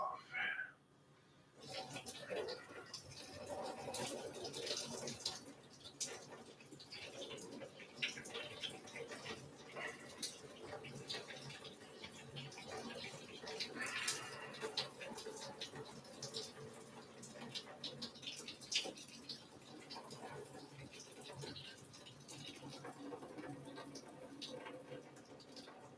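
Water is drained off cooked spaghetti in a pot, giving a continuous close splashing and trickling wash with patters and drips.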